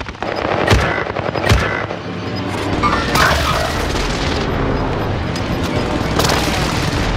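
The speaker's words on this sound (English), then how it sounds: "Allied precision airstrike incoming." Precision airstrike explosions and gunfire in Call of Duty: loud sharp booms and bursts of automatic fire crack repeatedly over a constant rumbling battle din, close and intense.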